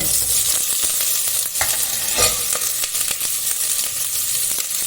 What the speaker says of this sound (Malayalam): ഞാൻ ഒരു ഉള്ളി നേരിയതാക്കി മുറിച്ചത് അത് ഇടുന്നുണ്ട്